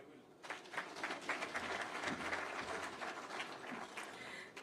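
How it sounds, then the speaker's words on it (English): An audience at a live event at the Nairobi Securities Exchange gives a round of applause, steady scattered clapping at moderate distance that holds for several seconds. "Let's do another round of applause"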